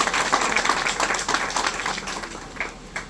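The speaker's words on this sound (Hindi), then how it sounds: "सभी एक बार ताली बजा देंगे।" Audience applause at a public commemoration event, a steady burst of many hands clapping that fades toward the end with a few last claps.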